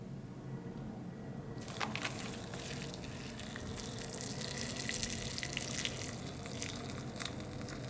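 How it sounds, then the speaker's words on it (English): Water runs steadily from a tap, joined partway through by a brighter splashing as it fills a pot for instant pho beef noodle soup, with faint handling noises beneath. "now, let's add some water"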